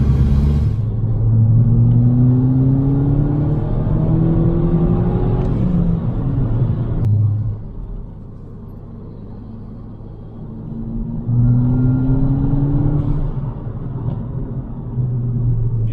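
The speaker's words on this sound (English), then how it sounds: "When you put your foot down in sort of second gear, the turbo takes up." A 270bhp stage 2 Volkswagen Mk5 Golf GTI pulls hard in second gear on a wet country road, its turbo engine droning and rising in pitch, then easing briefly around a gear change before climbing again, heard from inside the car.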